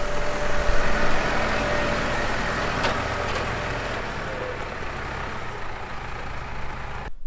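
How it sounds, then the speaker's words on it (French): A tractor pulling a trailer back to the farm after a stone-hauling job drones steadily from inside the cab, a loud, continuous low engine rumble with faint rattles and no talking. "moi je vais aller ramener le tracteur et la remorque à la ferme"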